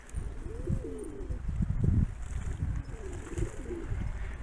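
Pigeons coo in low, rolling phrases, two drawn-out bursts with a short gap between, close by and fairly clear over a faint background hiss.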